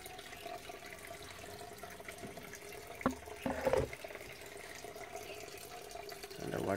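Overflow water from an aquaponics filter running down into a fish tank, a steady soft trickle with a few louder splashes partway through, heard on its own without talk.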